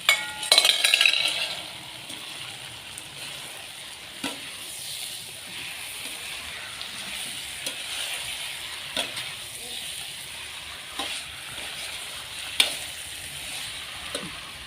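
A vegetable dish sweetened with jaggery simmers and is stirred in a pan: soft sizzling runs throughout, with scattered scrapes and light metal clinks of a spoon against the pan, heard up close.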